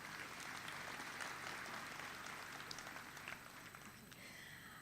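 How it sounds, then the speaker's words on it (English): Faint, distant applause from a forum audience for the Akusara Dance Art performance, continuous clapping that slowly fades. "please give a round of applause for Akusara Dance Art."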